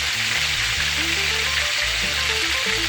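Chicken pieces fry in hot coconut oil for Jamaican brown stew chicken, a steady, close, loud sizzle running unbroken throughout, with a low tonal hum underneath and no talking.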